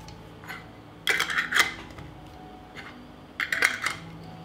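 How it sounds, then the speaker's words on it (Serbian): Clean glass jars are capped with new metal lids in a home kitchen, producing a few short, close clinks and scraping twists in two clusters with quieter handling between, and no voices. "Tegle zatvaram sa čistim i novim poklopcima."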